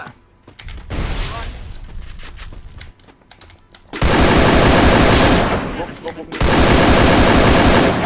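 AK rifle fire in the Free Fire video game bursts loud and close in long rapid automatic strings, with a quieter shorter burst earlier, while a player talks over it.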